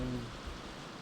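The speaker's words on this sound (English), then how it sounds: "Rain, rain, go away." Rain falling outside, heard as a steady, soft hiss that stays even and faint throughout, with no distinct drops standing out.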